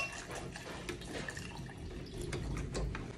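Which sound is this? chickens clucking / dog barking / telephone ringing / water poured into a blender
water poured into a blender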